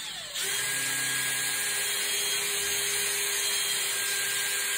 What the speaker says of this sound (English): So I'm just going to drill the right size now for the dowel.